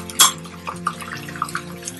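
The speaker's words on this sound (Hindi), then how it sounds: "थोड़ा सा पानी डालेंगे ताकि हमारा मसाला जले नहीं" Water poured into spice masala of garlic-ginger paste, crushed chili, turmeric and salt for aloo moongre: one short splash, then faint bubbling and light clinks in the pan.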